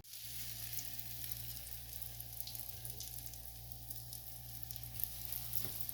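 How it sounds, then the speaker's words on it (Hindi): A bread sandwich shallow-frying in oil in a pan gives a steady, close sizzle that stays even for the whole stretch with no voices. "शैलो फ्राई होंगे इंशाल्लाह"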